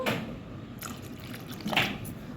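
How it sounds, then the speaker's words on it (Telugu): Water trickles and splashes softly into a cup of yogurt in short pours, with faint drips and a quiet background. "దానిలో కొంచెం వాటర్ యాడ్ చేస్తున్నాను"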